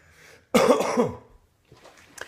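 A single close, harsh cough with a throaty rasp, followed by quiet breathing and a faint clearing of the throat.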